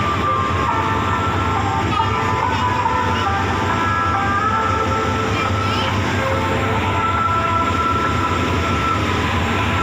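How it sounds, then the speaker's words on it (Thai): Rapid train 112 from Den Chai to Bangkok sits at a station about to depart, giving a loud, steady rumble of idling engine and carriages with faint squeals and murmurs layered on top. "โอเคใกล้เวลาออกครับ รถเร็ว112 เด่นชัยกรุงเทพ"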